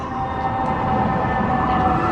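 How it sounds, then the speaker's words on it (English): A siren wails on a New York City street, a steady tone over dense, loud traffic rumble and city noise. "Sirens going constantly."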